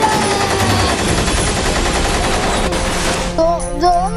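Loud, continuous rapid gunfire sound effect in a comedy puppet skit, a dense burst of shots that fades near the end under other sounds.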